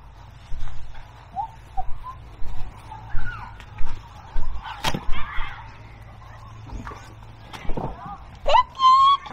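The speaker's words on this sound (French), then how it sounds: "Les petites poules." Short squawks and clucks from several small hens come in scattered bursts, with occasional louder calls and background murmur.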